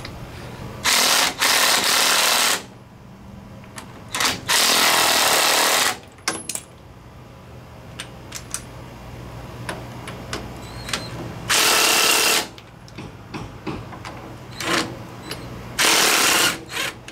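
A power tool, likely an impact wrench, fires in four loud, sustained bursts as it loosens bolts on a 1978 Ford Dana 44 straight axle, with clanks and shop noise between.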